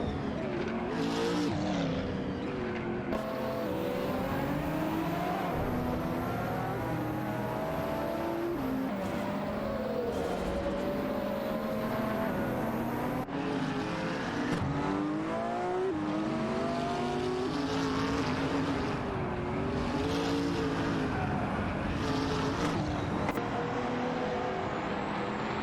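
In an AI racing game, race car engines scream continuously, revving up and down through gear changes, with several cars layered together and occasional bursts of tire squeal.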